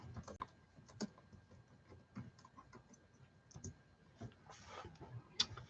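Quiet, irregular typing on a computer keyboard, with uneven bursts of keystrokes and short pauses, recorded close with a soft background.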